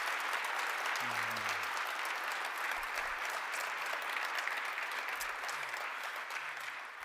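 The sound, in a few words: audience round of applause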